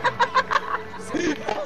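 A voice imitates a chick's peeping with a run of short, high, evenly spaced chirps, then gives way to louder talk and laughter.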